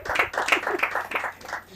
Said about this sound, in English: please a round of applause for our last performance